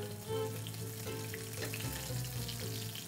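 Freshly caught Alaskan red salmon fries in a pan with a quiet, even sizzle, set against a steady low tonal hum throughout.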